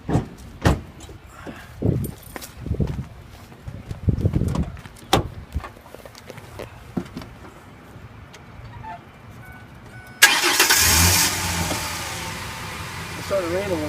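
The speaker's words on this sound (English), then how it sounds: "It starts up just like a regular car" A hydrogen fuel cell car starts up in light rain after its door and tailgate thump shut, the start bringing a steady broadband hum that runs to the end of the clip. A few knocks and handling noises come before it.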